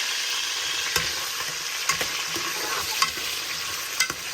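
Bay leaf, cinnamon, ginger and whole spices frying in hot oil in a pan, with a steady loud sizzle and periodic scraping stir strokes about once a second, close up.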